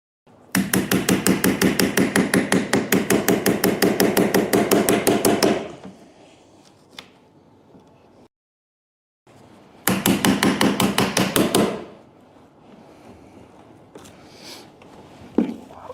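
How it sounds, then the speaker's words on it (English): Rapid hammer blows striking a chisel on the wood of an old cupboard being restored, two long bursts of fast, even strikes, close and loud, with a few scattered knocks between. "I help myself with a hammer because it's a lot and hard."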